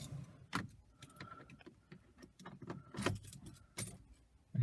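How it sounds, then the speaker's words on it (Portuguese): Keys jangle and scrape close by as a key goes into the ignition of a white 2017 Peugeot 208 Sport, with several sharp metallic clicks in a quiet cabin. "vou colocar a chave na ignição."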